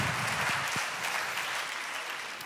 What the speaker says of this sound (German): Mit einem Applaus.